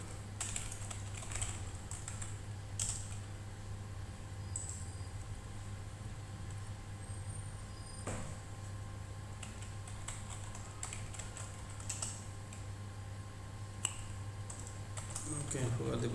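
Typing on a computer keyboard while logging in to an AWS account, with steady clicking keystrokes over a constant low hum and some voice in the background.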